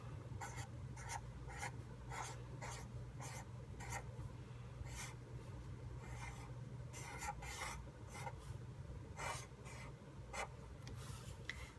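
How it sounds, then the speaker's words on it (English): A pen or marker scratches across paper drawing a simple flower, with repeated short rubbing strokes in an uneven rhythm over a steady low hum, close and fairly quiet, with no talking. "So I'm going to just draw a simple flower."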